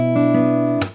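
A guitar plays ringing plucked notes, then a sharp percussive slap hits the strings near the end, cutting the sustain, as in a song from Cyberpunk 2077; close and solo.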